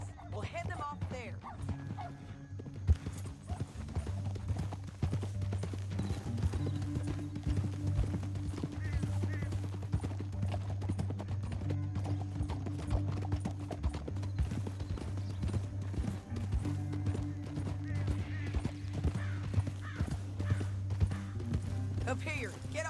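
Horses trot in the western game Red Dead Redemption 2, their hooves clip-clopping steadily over a low rumbling music bed, while characters talk throughout.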